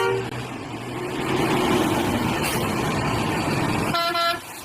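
Horn of a toy garbage truck: a short bright electronic honk near the end, preceded by a louder whirring mechanical rumble and faint tonal beeps, all close to the microphone with no speech.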